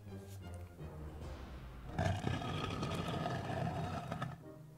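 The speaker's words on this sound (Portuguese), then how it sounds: "Era um crocodilo mutante gigante!" A giant mutant crocodile attacks in the video game 60 Seconds: a sudden loud, rumbling roar-like burst that swells and stays heavy for a few seconds before cutting off, over a low game ambience.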